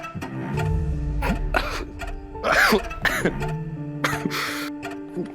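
A woman coughs and clears her throat in several short, harsh bursts, close and fairly loud, with brief pauses between the fits.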